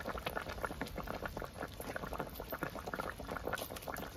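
A thin curry of eggplant and sea fish bubbles steadily in a pot, with a continuous, close, gentle boiling patter and no voices.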